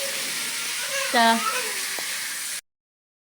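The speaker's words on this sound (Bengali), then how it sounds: "এই যেমন মাছটা ভাজা দিচ্ছি" Pangas fish frying in hot oil gives a steady, close sizzle throughout, with a voice speaking briefly over it before the sound cuts off.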